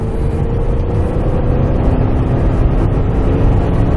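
A Lexus LS 400 kicks down and accelerates onto a highway, a loud, steady engine drone from inside the cabin with a rising tone and no talk.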